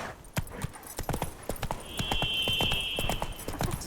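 Roach, a horse in The Witcher 3, galloping with quick, close, rhythmic hoofbeats across the whole clip, a brief tonal whine in the middle and a faint voice in the background.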